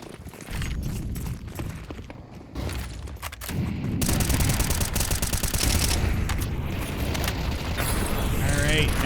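Rifle fire rattles in a Counter-Strike esports match on the Ancient map, with bursts and rapid shots over game mechanisms and footsteps while a caster talks over it.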